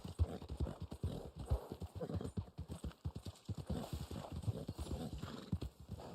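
Horse hooves clip-clop in a steady rhythm in the Red Dead Online video game during a snowy night, fairly faint, with a brief whinny among the hoofbeats and no talk over them.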